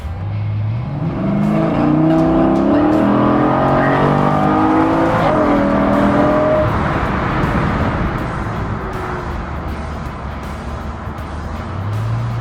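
A Chevrolet Nova drives at highway speed around 70 to 80 mph, weaving through traffic, its engine droning loud and close with rising revs and a shift, steady road roar underneath throughout.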